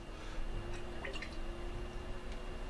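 Oil and blue-dyed water are stirred together in a container, giving faint, close liquid swishing with a few soft drips.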